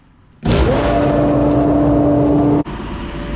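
A grain bin aeration fan switches on abruptly and runs as a loud, steady roar with a sustained whine, then cuts off sharply near the end, leaving a lower background hum.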